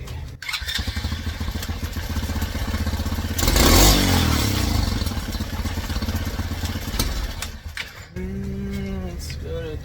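Engine of an old Tao Cheetah ATV running steadily after carb jetting, a loud droning idle that swells into a brief rev near the middle, then drops and settles back to a steady hum.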